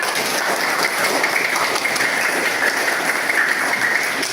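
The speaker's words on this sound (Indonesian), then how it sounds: "tepuk tangan untuk kita semua" Dense, steady clapping from a class of students, a continuous wash of hands with no voices over it.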